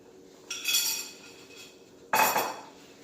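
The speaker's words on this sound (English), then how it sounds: "Once it has been added, we stir the pot" A spoon clinks and scrapes against a metal pot as dried oregano is stirred into marinara sauce, with two distinct bursts of clinking and scraping heard close and alone.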